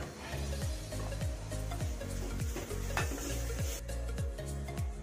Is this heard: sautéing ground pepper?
yes